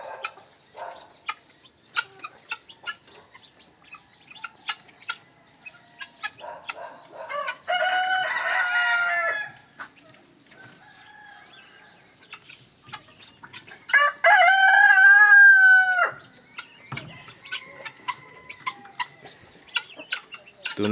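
A noisy flock of penned farm chickens and guineafowl keeps up constant clucking and chattering, with two loud, drawn-out rooster crows rising above it, close by and without speech.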